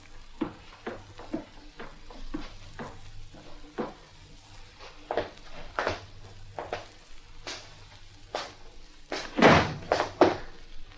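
A front door closing in a 1964 radio drama, heard as a run of soft knocks and thuds ending in a louder, sharper slam-like impact near the end, with no talk over it.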